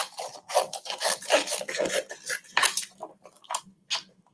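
Scraping and rasping of a weeding tool peeling heat transfer vinyl away from its carrier sheet for a Halloween graphic tee, a close series of short, dry rubbing strokes in an irregular rhythm, with no voice.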